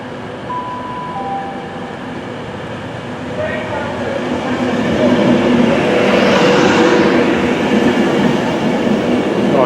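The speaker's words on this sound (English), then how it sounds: "Just coming out the sunlight is my train to Liverpool." A Class 390 Virgin Pendolino, an 11-car electric train bound for Liverpool Lime Street, approaches and rolls past at a station with a rising rumble of wheels, a brief tonal whine and some squeal, growing loud and close.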